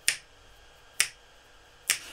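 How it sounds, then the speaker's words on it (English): Three crisp finger snaps used as body percussion, evenly spaced about a second apart, close and dry against a quiet background with no talk. "Another was snaps."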